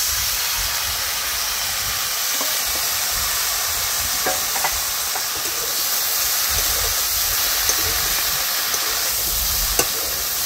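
Taro stolons and fried prawns cook in a pan outdoors by a river, a steady loud sizzling hiss with faint stirring clicks running throughout.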